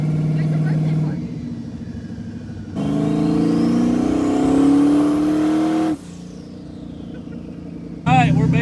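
A twin-turbo car idles nearby, then pulls hard from a rolling start, its engine note climbing loud and steady for about three seconds before backing off to a low drone, with another short burst at the end.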